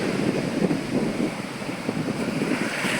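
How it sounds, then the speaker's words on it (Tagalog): Large ocean waves break at Dingalan beach in Aurora, making a continuous, rough surf roar mixed with gusty wind buffeting the microphone, with no voices. "Yan, lalaki ng alon."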